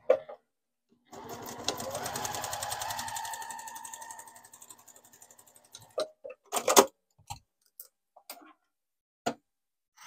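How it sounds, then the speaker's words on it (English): A sewing machine stitches a line along the edge of a self-binding receiving blanket, running in one steady, fast, close whirring burst of a few seconds, then stopping, followed by a few quiet clicks and handling taps. "And then we stitch right along that line."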